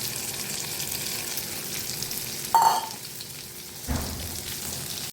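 Ridge gourd curry sizzles and fries in the pan, a soft steady crackle broken by two brief clatters as leftover masala is tipped in.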